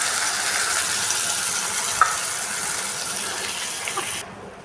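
Onions sizzle steadily in a hot pan with ginger garlic paste for a cauliflower koottu, a dense broadband hiss with a sharp stir or clink near the middle, continuing close and fairly loud before cutting off abruptly near the end.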